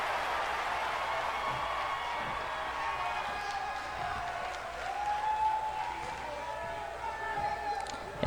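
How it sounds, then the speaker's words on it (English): A live wrestling crowd at an indoor show roars and applauds in a steady, dense wash of cheering that swells slightly midway and never lets up. "you can just listen to the crowd reception for him"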